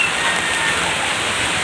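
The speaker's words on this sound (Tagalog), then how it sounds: "Ang lakas ng ulan bigla." Heavy rain pours steadily in the aftermath of Typhoon Odette, a dense, continuous close hiss of water hitting surfaces with no letup throughout.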